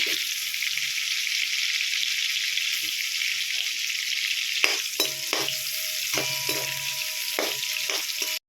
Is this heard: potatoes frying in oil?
yes